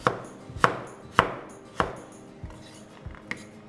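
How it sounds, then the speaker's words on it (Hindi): A kitchen knife chopping mango into small chunks on a cutting board makes sharp, close thuds at a steady pace of about one and a half per second, followed by a few lighter, softer taps, with no voices. "अब इसको जी छोटे छोटे चंक्स में काट लेना है, यूं इस तरीके से।"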